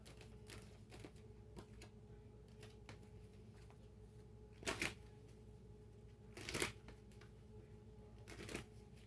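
Tarot cards are shuffled during a reading in a quiet room, giving soft, faint riffling bursts, with a few sharper flurries standing out near the end.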